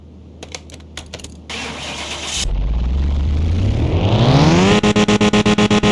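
A Honda S2000 engine in a simulated garage starts with a short burst of clicks and then idles. It revs up steadily in a rising whine to the rev limiter, where it stutters in a fast, loud, rhythmic on-off bounce.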